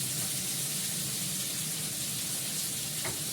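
Potatoes fry in a hot wok with a steady, soft sizzle that stays even throughout and has no talking over it.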